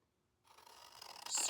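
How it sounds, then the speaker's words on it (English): Scissors snip through a piece of scored card to cut away a small square for a gift card and candy box craft, a short close rasping cut that grows louder toward the end, no talking. "And I'm just going to take my scissors"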